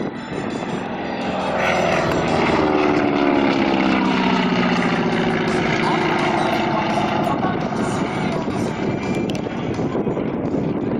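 A propeller-driven light airplane flies steadily overhead at a fly-in meeting, its engine drone loud and sustained with shifting pitch and wind buffeting on the microphone throughout.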